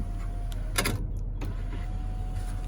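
A 2017 Chevrolet Silverado's sunroof motor runs inside the cab: a brief whirring and clicking of the mechanism over a constant low idle hum, with a few soft clunks.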